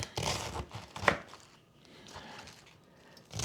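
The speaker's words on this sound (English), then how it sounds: "it don't take long to chop this thing up" Knife chopping through a head of cabbage on a board in a kitchen, a quick cluster of crisp cuts early on with one sharp loud chop, then quieter scraping and a final cut, close and alone.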